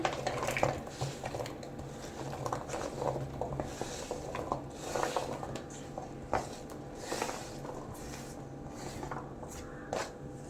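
Pumpkin pieces and rice go into a metal cooking pot for Kerala pumpkin payasam. Soft clatters and scrapes of utensils against the pot come in irregular bursts over a low, steady background hum.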